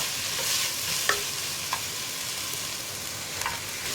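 Capsicum stir-fried in a hot pan for chicken Schezwan noodles, a steady close sizzle with a few sharp scrapes and clinks of the spatula scattered through.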